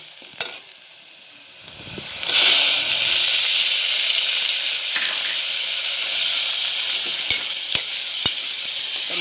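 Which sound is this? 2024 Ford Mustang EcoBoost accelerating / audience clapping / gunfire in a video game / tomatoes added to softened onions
tomatoes added to softened onions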